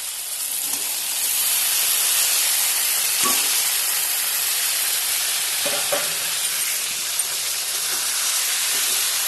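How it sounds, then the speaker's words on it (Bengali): Figs stirred and fried in a spice masala with tomato, a steady loud sizzle and hiss from the pan with a few scrapes of stirring, no voices. "ডুমুরটা দিয়ে আরও কিছুক্ষণ কষাতে হবে।"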